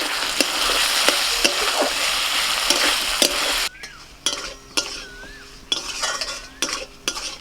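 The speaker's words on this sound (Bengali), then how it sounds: "চিংড়ি মাছ আর আলুটা কষানো হয়ে গেছে" Prawns and potatoes fry in spice paste for a shrimp and banana-flower dish, a steady close sizzle with stirring scrapes, then quieter clinks and spoon taps against the pan.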